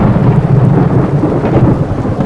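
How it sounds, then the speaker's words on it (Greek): Low rumbling thunder rolls continuously over steady rain, deep and heavy throughout. "Ένας ακόμη κεραυνός έκανε τα τζάμια να τρίζουν."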